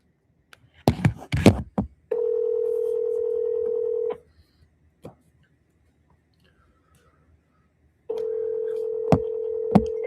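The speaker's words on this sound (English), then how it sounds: "Let's give them a call." A telephone is dialed with a few quick clicks and tones, then a steady dial tone hums for about two seconds. After a quiet gap with a faint click, the tone comes back.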